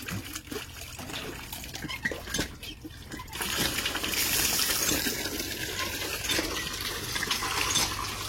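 Water pours from a tap, loud and steady, with a faint trickle at first that swells into a broad gushing rush after a few seconds. Voices are heard faintly early on.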